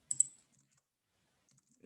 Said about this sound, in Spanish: Le hago un doble clic, le cambio aquí el valor de la resistencia.